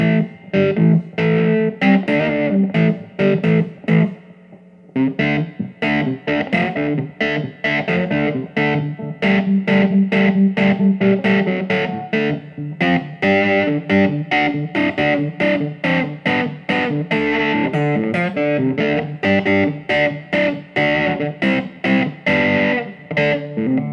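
An electric guitar with light gain in a Stratocaster-style SSS pickup setup with modern wiring, playing a clean-edged tone: busy picked single notes and double-stops in steady phrases, close and loud, with a brief pause near five seconds and no talking.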